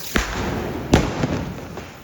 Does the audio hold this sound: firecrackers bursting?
yes